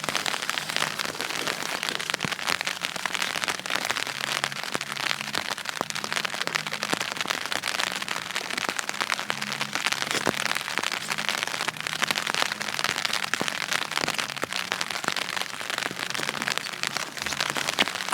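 Heavy rain falling steadily during sea fishing at a harbour wall, a dense, constant hiss and patter close by with occasional louder drops and no talk.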